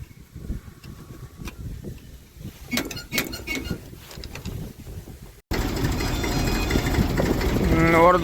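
A Massey tractor's diesel engine on a cold, windy winter day, quiet and distant at first, then suddenly loud and close as it runs steadily with a rough, droning rumble.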